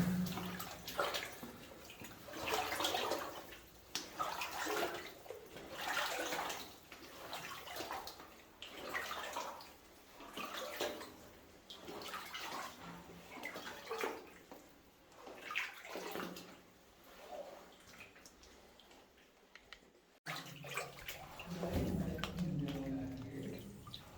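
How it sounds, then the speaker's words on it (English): Someone wades through flooded water inside an abandoned early-1900s copper mine, with steady sloshing and splashing in repeated surges from each step, close and continuous, briefly cut off near the end. "Trick is walking through here, there's tons of obstacles under the water that you can't see"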